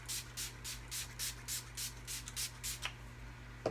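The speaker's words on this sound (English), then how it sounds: "I'm looking for my setting spray" Setting spray is misted from a pump bottle in a steady series of about ten short, hissy spritzes, close and regular in rhythm, over a faint low hum.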